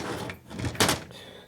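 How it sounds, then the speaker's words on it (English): A loose piece from a 1972 Harley-Davidson XL Ironhead Sportster motor dropped during a rebuild, landing with one sharp close thunk after a duller knock, in a quiet workshop. "Let me drop that other piece."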